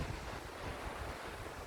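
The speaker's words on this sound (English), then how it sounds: "And here you see the beautiful sea. The Arabian Sea, I think it still is, where you can go and have a swim." Arabian Sea surf at a seaside resort shore washes steadily with no distinct breaks, mixed with gusting wind noise on the microphone and no voices.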